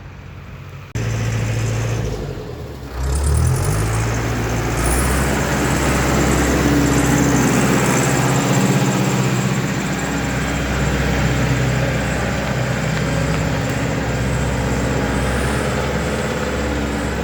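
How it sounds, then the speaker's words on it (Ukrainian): A small tractor engine pulls a heavy load in freezing winter weather, starting with a few clunks before settling into a loud, steady, low rumble held close by for many seconds. "такий маленький трактор, а таке здорове потягнув, да?"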